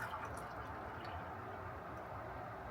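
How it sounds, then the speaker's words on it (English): Hot coffee from Japanese supermarket grounds is poured into a small mug, giving a soft continuous liquid trickle with faint drips, quiet and close. "let's go ahead and pour ourselves a nice hot cup of coffee"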